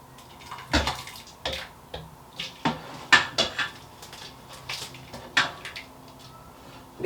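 A spoon scrapes and clinks against a pot while scooping chunky bits out of an orange soup, giving irregular metallic taps with a wet, sloshing background.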